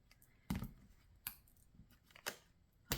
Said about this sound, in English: Do just a little bit of a shuffle